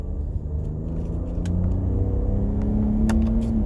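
A second-generation Ford Raptor truck with a 10-speed automatic, put in sport mode, builds a steady low engine rumble and rising drone as it accelerates, heard from inside the cab with a few light clicks.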